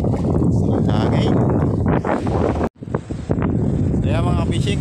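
Strong wind buffets the microphone on a fishing boat trip at sea, a loud continuous rumble and roar with a brief dropout midway, while people talk over it.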